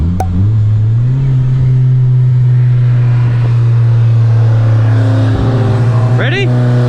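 Tuned 10th-gen Honda Civic Si and a 2005 Mitsubishi Evo VIII cruising at a steady 30 mph roll before a race, a loud constant engine drone close by, with a brief rising rev near the end.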